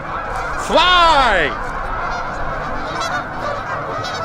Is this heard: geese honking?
yes